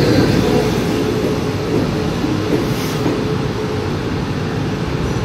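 A Taiwan Railway PP Tze-Chiang express rolls past at a station on the line from Ruifang, giving a steady, loud rumble with constant wheel and track noise and no pauses.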